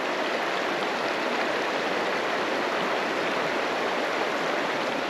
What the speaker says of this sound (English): surrounded by beautiful mountains on all sides with the Atigun River running by